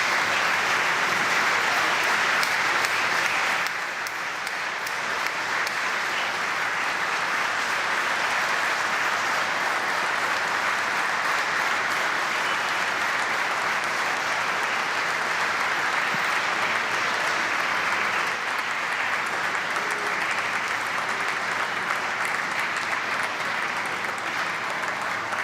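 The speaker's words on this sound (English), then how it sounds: "There's a clap on." Sustained, dense applause fills the New York Stock Exchange floor as a military member is honored, a steady crowd clapping that holds loud and even throughout without pause.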